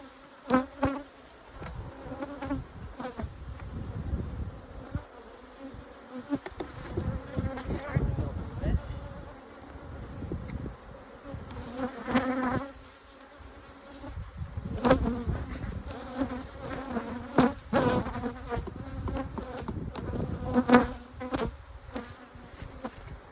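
Honey bees buzz continuously around a hive, a dense humming swarm with rising and falling intensity and occasional knocks and handling noises.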